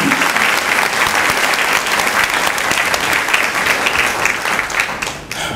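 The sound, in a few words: audience applause for award winners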